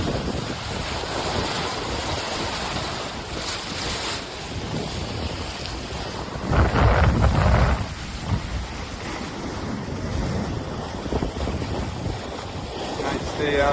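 Wind and waves on a sailboat out on the water: steady buffeting wind across the microphone with constant rushing surf and a louder gust midway.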